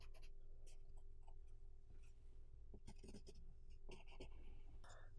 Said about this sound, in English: I'm going to go ahead and make a mark at each corner.